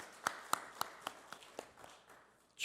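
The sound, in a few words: clapping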